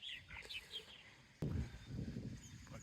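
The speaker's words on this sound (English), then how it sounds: "But these purple martins are pretty noisy." Purple martins give a string of chirps and twittering calls, with a sudden loud thump partway through followed by clattering noise.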